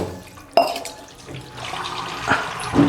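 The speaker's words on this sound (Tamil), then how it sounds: "அப்படியே தண்ணி ஊற்றி பச்சை தண்ணி ஊற்றி" Drained noodles rinsed with cold water: a sharp splash, then uneven running and splashing water with a few louder bursts over a short stretch.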